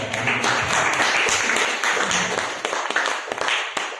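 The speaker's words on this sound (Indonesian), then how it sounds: "Silakan tepuk tangan Bu Yati" A seated audience at an academic dissertation session claps for a graduate, a brief dense burst of hand claps that thins out toward the end.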